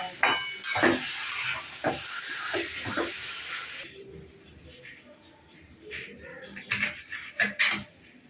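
Chicken meat fries and is stirred in a pan, with loud sizzling for the first half that cuts off, followed by quieter scraping stirs and scattered clatter.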